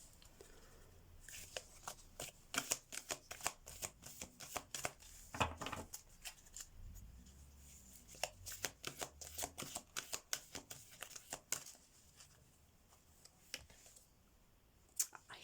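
Fairy deck tarot message cards are shuffled by hand, a quiet, close flurry of papery riffles, slaps and clicks in uneven bursts with short lulls, heard alone.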